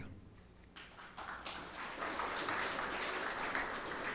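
An audience at a Bhagavat Katha religious discourse at a Radha Krishna temple in Dallas breaks into clapping, starting with scattered claps and swelling into steady, dense applause.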